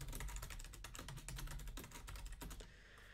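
Typing on a computer keyboard, a fast, close run of light clicking keystrokes for a few seconds before stopping, quiet and without any talk.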